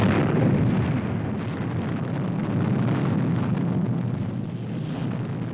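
A detonation explosion in the puppet science-fiction series Fireball XL5, a broad rumbling blast that rolls on steadily and slowly fades, loud and sustained with no voices over it.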